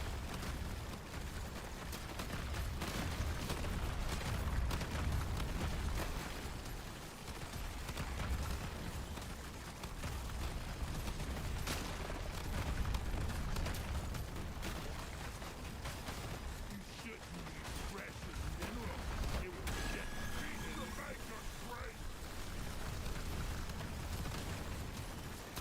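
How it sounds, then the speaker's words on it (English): Deep Rock Galactic Survivors gameplay with dense streams of small, rapid popping explosions and gunfire, continuous and busy throughout, with constant game sound effects underneath. "I like all the little tiny explosions though."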